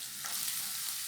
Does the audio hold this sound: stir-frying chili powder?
yes